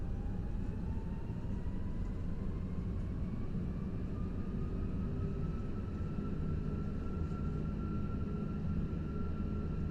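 Thrust reversers on an Airbus A330 roar on landing in X-Plane 12, a steady, dense engine rush holding level for the full length with a faint rising whine inside it.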